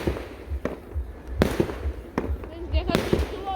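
New Year fireworks in Kokshetau burst repeatedly, sharp booming cracks at irregular intervals, some close. People talk beneath the explosions.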